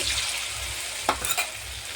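Spices with poppy seed, chili, ginger, turmeric and chili paste fry in a pan for a kofta curry, giving a steady close sizzle broken by a couple of brief scraping stirs.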